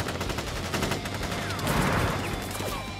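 A rifle volley in Crisis Core Final Fantasy VII, a dense burst of overlapping gunshots fired together, loud and close, with game sounds underneath.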